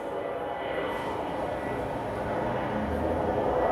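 Delta DC-9 airliner departing an airport: a steady, loud, broadband engine roar that holds constant throughout and slowly builds slightly, heard up close without any voices.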